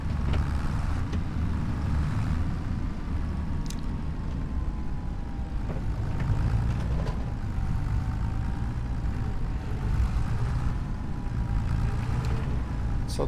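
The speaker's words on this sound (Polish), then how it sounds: "jaki on ma fajny ten silnik, że ja go nie słyszałem wcześniej. No tak mruczy basowo." A vehicle engine in the video game Farming Simulator 25 rumbles deeply and steadily, a low bassy drone running throughout with faint clicks and small mechanical sounds on top.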